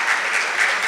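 Loud, steady applause from an audience at a Sikh job fair event, welcoming an HR speaker onto the stage, dense clapping with no pauses throughout the short burst.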